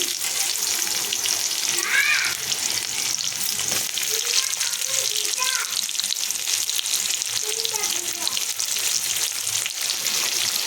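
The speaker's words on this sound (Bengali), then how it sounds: "অলরেডি তেলটা গরম হয়েই গেছে। এখানে দিচ্ছি আমি গোটা জিরে আর তেজপাতা, তারপরে পেঁয়াজ কুচি," Whole cumin seeds and bay leaves sizzle in hot oil for an egg curry, giving a steady, loud, close crackle that fills the whole stretch without talk.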